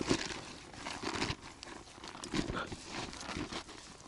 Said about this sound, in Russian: Вот этот пакетик мы будем использовать под мусор.